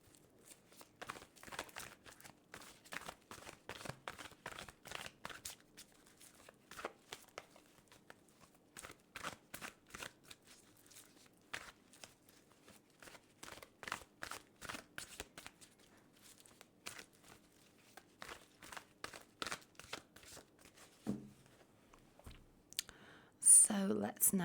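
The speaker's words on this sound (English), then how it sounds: "So let's now split this deck and place these cards down." A tarot deck is shuffled repeatedly, with bursts of riffling card noise in an irregular rhythm, close and fairly soft, and a few brief taps near the end.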